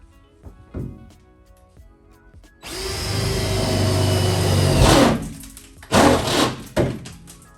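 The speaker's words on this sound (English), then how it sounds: "I'm gonna go ahead and use my drill and make that initial hole." A power drill whines loudly for a couple of seconds as it bores through a Mercedes Sprinter van panel, followed by a few hollow knocks and clatters.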